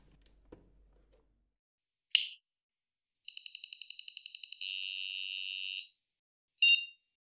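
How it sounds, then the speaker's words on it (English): A single short electronic beep sounds from a corroded 386 computer motherboard on its first boot after battery-leak repair, followed by a steady series of rapid high-pitched beeps and a long tone, then another brief beep, in an otherwise quiet room. "Hey, we get a beep."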